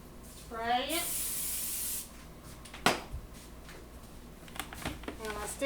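A can of cooking spray gives one steady hiss of about a second onto plastic wrap for an apple pie crust, between stretches of someone talking, with a sharp knock and light handling noises afterward.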